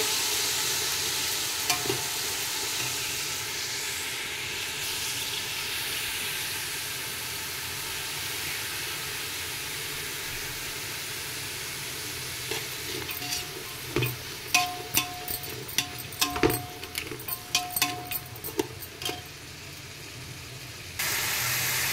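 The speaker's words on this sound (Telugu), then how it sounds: "చూడండి ఫ్రెండ్స్, ఆనియన్ ఎంత మంచిగా వేగుతుందో, మంచిగా ఫ్రై అవ్వాలి" Onions frying in hot oil after garam masala for egg dum biryani, a steady sizzling hiss that runs throughout, later joined by clinks and scrapes of a spoon stirring in the pan.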